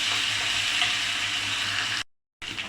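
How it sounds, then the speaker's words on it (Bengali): Onion with garlic and ginger paste fries in hot oil, a loud, steady sizzle that cuts out abruptly for a moment before resuming. "দিয়ে একটু কাঁচা গন্ধটা চলে যাওয়া পর্যন্ত একটু ভেজে নিব"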